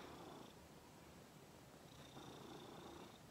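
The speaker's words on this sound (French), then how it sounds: "Et ce petit chat qui ronronne." A kitten purrs softly and continuously, a quiet rhythmic rumble with no voices.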